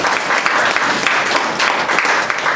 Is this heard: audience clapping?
yes